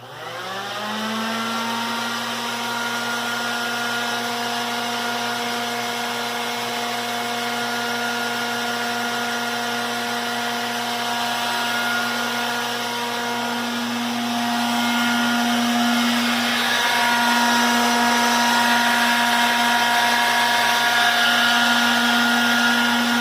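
An air-powered sander runs dry against a headlight, a continuous loud whine with a steady pitch that shifts slightly partway through and never stops.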